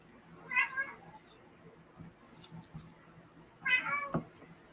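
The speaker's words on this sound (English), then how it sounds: "That's Gandalf's meow" A cat meows twice, a short call near the start and another a few seconds later, both close and clear over a quiet room with faint low hum and a few soft knocks between.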